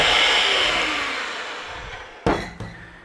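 An electric mixer beats cake batter with eggs and flour for Black Forest fairy cakes. A high whir fades as it winds down, followed by two sharp clunks near the end.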